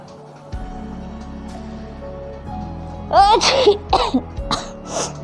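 A woman sneezes after sniffing grass during a sneezing challenge, giving one sharp close burst followed by a few shorter bursts with breathy sniffles, all loud against a quiet indoor background.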